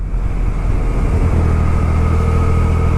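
A 2.3-liter production motorcycle engine runs with a loud, steady, dense rumble that holds constant throughout, with no talking.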